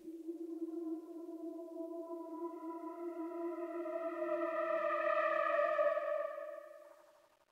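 A sustained synth chord with chorus effect in Ableton Live, its bright harmonics swelling and shimmering with slow movement before fading out, played alone.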